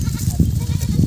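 Goats bleat in repeated short calls, loud and close, on a soybean farm where they are grazing.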